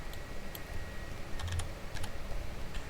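Keys on a computer keyboard clack in a short, irregular burst of light taps, close but fairly quiet over a steady low hum, with no voice.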